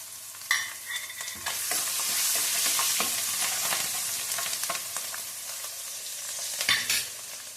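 Crushed garlic cloves frying in a pan for huli soppu gojju, a steady close sizzle with repeated stirring scrapes throughout and a few louder clatters near the start and end, no talking.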